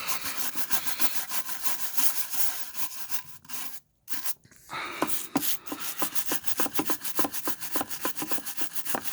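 Rhythmic scrubbing of a badly damaged car wheel rim, close and steady, a fast rasping back-and-forth rub that pauses briefly midway before resuming.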